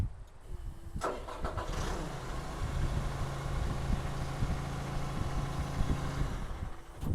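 The engine of a Terex Achiever TC-55 tracked aerial lift cranks briefly and starts, then runs at a steady, moderately loud idle with a low droning rumble throughout.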